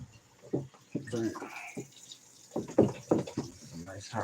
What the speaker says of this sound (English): Some nice hot water going.